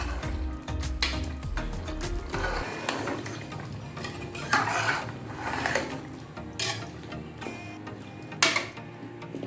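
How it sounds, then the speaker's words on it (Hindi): Potatoes are mixed with chicken in a pot for biryani, giving uneven scraping, rubbing and knocking of a spoon against the pot, with occasional louder clacks. "इसे भी हम चिकन के साथ मिक्स कर लेंगे"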